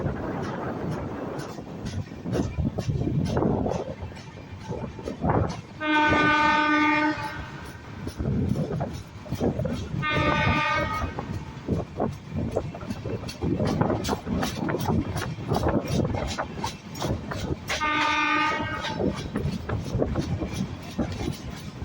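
The Hubballi–Rameshwaram Weekly Express rumbles steadily past in the evening with clattering wheels, its horn sounding three separate times in long blasts, loud and close.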